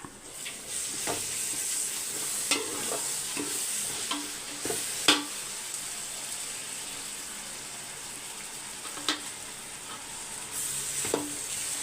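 Mint and green chillies fry in a pot for mutton biryani with a soft steady sizzle, broken by occasional clinks and scrapes of a stirring spoon, and no one speaking.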